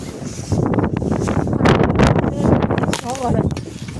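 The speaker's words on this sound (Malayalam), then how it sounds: "കാറ്റ് വീശുന്നു കാറ്റ് വീശുമ്പോൾ എൻ്റെ മൊബൈൽ പോകുന്നു" Gusty wind buffets the microphone in rough, rumbling bursts on a snowy balcony, with a voice faintly mixed in.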